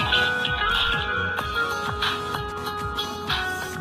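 Ringtone played in the IMO phone app, a repeating melodic electronic tune with regular rhythmic notes, close and clear, no voices.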